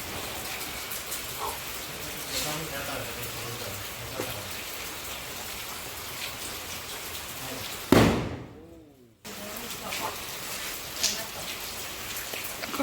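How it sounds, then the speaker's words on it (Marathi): Steady rain patters on surfaces throughout during a Diwali celebration, with a loud firecracker burst near the middle that briefly cuts out; the rain resumes afterward, with faint voices in the background. "पाऊस थोडासा कमी झालाय"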